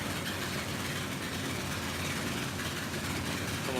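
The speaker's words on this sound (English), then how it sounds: "Truck without a muffler." An idling truck running without a muffler on a street in Thailand, a loud, rough, continuous low rumble with a steady mechanical throb that holds unchanged throughout, close by and without talk over it.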